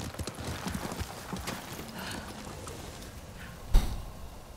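Horse hooves clip-clopping in a steady trotting rhythm while riding in the video game Ghost of Tsushima, close and moderately loud, with a sharp thud near the end.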